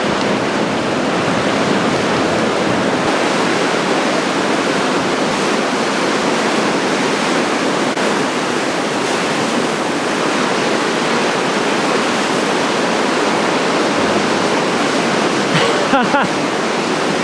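Steady ocean surf breaking at a beach where people are surfing, a continuous loud wash of waves with no pauses, heard alone without talk.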